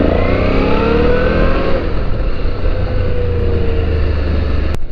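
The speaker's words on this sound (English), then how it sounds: "Yeah, sure, I'm riding a motorcycle." A motorcycle engine hums steadily during a ride, its tone sliding gradually lower as the bike slows, loud and continuous with no talking.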